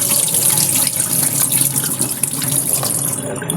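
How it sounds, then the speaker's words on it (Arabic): Water pours steadily out of a pot of soaked fava beans as they are drained, a continuous splashing rush that stays close and loud before fading at the end. "هنصفيه بقى من الميه خالص."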